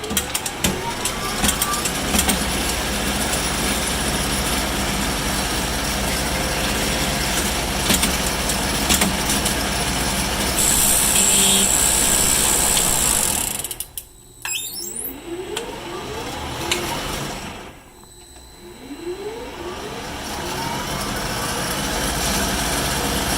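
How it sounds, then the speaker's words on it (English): An old Hardinge turret lathe runs in a tool shop, a loud continuous mechanical drone with steady whine, briefly dropping out twice before resuming. "I bring them over to my Hardinge. This is an old turret lathe"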